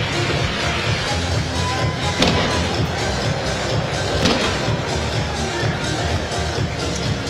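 A stadium crowd roars and applauds as the Harlequins rugby side runs out for a mid-season friendly against Munster, a steady wall of distant cheering and clapping with occasional bangs from pyrotechnics.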